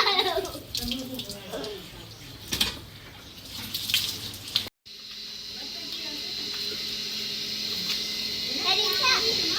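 Water from a motor pump gushes in a village as children bathe their grandmother. Splashing and children's voices fill the first half, then a steady, loud stream of running water continues alone.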